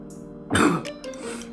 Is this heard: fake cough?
yes